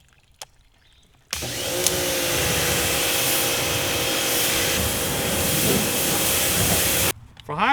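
YerYork portable high pressure washer spraying through its 40 degree nozzle, a loud steady hissing spray that starts abruptly and runs for about six seconds before cutting off.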